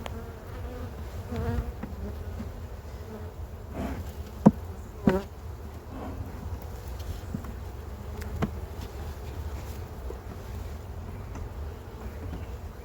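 A dense, steady buzz of many honeybees close by at a hive, with a few louder knocks and clicks over the drone.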